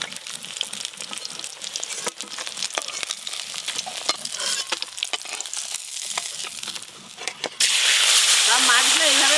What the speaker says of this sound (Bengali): সব মাছগুলো এইভাবে ভেজে নেব